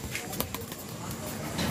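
A pigeon caught in a flyer slope trap gives soft, faint cooing over a brief moment, with a couple of light flutters or knocks and a low background murmur.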